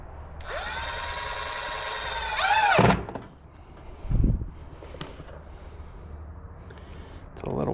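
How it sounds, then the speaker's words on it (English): A power drill drives a screw into fascia on a new building's overhang, giving a close, rising whine for about three seconds that ends abruptly, followed by quieter knocks and handling noise. "I wouldn't actually mind getting a couple of screws maybe down in here"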